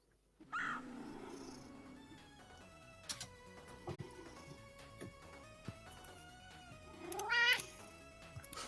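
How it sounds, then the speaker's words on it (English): A cat meows near a computer keyboard indoors, with a clear cry near the start and another rising meow toward the end, over quiet background electronic tones. "Meow."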